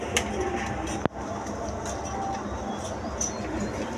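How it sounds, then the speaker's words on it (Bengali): Panja pigeons cooing softly in a steady, low murmur over a busy background hiss, with one sharp click partway through; no one speaks. "এটা মূলত পাঞ্জা কবুতর।"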